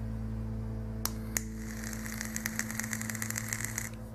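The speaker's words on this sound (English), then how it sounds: "there you have a nice sizzle" An e-cigarette mod with a dual coil tank fires, giving a soft crackling sizzle with quick popping ticks over a steady low electrical hum, close and fairly quiet, following a couple of sharp clicks.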